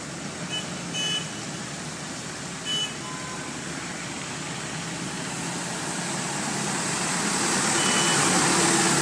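A toy street sweeper truck gives off a steady, engine-like mechanical whir that slowly grows louder, with a few short electronic beeps near the start and no talking.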